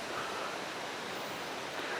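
Water flows in a small sand-bottomed, unpaved creek with a constant soft rushing hiss, steady and fairly faint, with no voices.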